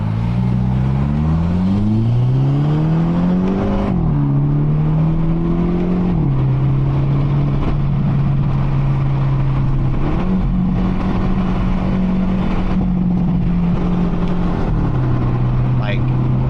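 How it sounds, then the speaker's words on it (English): A Hyundai Elantra N sports exhaust drones and burbles continuously, pitch rising and dipping as the engine revs, loud and close throughout. "the backfires and the burbles on this car are insane"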